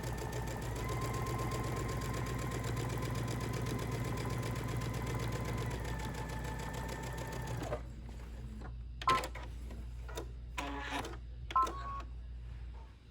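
A sewing machine stitches a short seam on ribbon for a scrappy hexagon potholder, humming steadily and close for several seconds before stopping, followed by a few brief handling clicks and taps.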